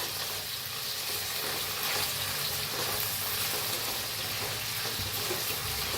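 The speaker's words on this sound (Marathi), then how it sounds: "आता ह्याच्यात बटाटू घालूया आपण। आता ह्याला जरा हलवून घेऊया।" Potatoes frying with green chillies and fresh curry leaves in a hot pan, a dense continuous sizzle with stirring scrapes running steadily throughout, close and fairly loud, no voices.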